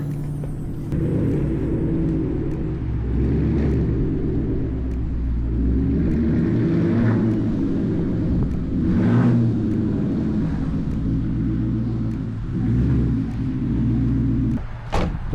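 A 2013 Ford F-150 pickup engine rumbles low and steady close by, with a few revs as it moves and slows into a parking spot, the idle continuing throughout.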